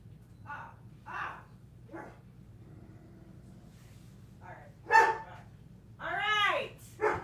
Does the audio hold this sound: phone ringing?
no